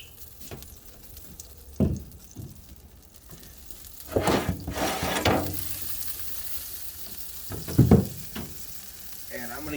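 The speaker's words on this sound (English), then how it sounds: "You can hear it just dripping like it's," Chicken drippings sizzle and spatter inside a Stumps smoker, a steady crackling hiss with a few louder pops and bursts, fairly close and unaccompanied by talk.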